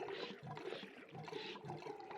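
Water rushes and gushes through a broken wall in Oxygen Not Included, a steady, close, washing flow with rhythmic surges and no voices.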